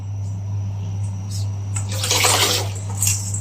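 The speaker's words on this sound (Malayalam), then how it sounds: "ഇപ്പൊ വെള്ളം ചൂടായി ഇനി നമുക്ക് ഇതിലേക്ക് അരി ഇട്ട് കൊടുക്കാം കേട്ടോ" Rice is tipped into a pot of hot water for a beef curry meal, giving a brief rushing patter and splash over a steady low stove hum, with no talking.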